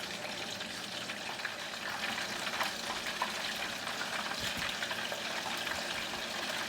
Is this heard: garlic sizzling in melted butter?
yes